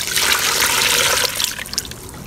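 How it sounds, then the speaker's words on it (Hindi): Water poured into dry black clay dirt, a steady broad splashing pour that trails off into softer trickles and drips near the end, close and fairly loud with no talking. "अब हम इसमें पानी डाल देते हैं"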